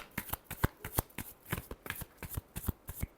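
Tarot cards being shuffled by hand, a quick run of crisp riffling flicks and soft slaps in an uneven rhythm, close and alone.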